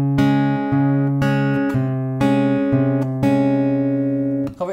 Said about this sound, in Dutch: Dus de maat van C klinkt zo.